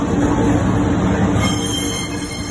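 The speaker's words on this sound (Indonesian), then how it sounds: "sekarang kita lagi ada di kereta menuju stasiun Tanah Abang." A passenger train bound for Tanah Abang station runs on the rails, loud and close from inside the carriage, with a steady rumble and high squealing wheel tones.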